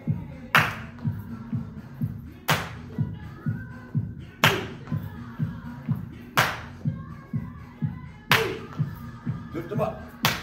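Hands clap sharply at regular intervals during a low impact seniors' aerobics class, over steady stepping thuds and upbeat music, with a louder clap roughly every two seconds.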